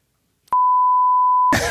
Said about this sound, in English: George, you can probably beep fuck and ass out and just leave everything else.